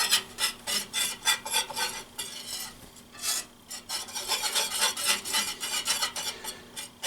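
A roux for gumbo is stirred briskly in a pot to break up lumps, making rhythmic scraping and rasping strokes of a utensil against the pot bottom, close and steady, with a faint sizzle underneath.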